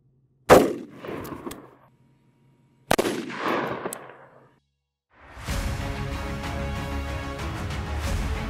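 Two loud 5.56mm Magtech 62gr FMJ rifle shots fired from a 10.5-inch AR upper at an outdoor range, each a sharp blast with a short decaying echo, followed by a steady hum of ambient noise.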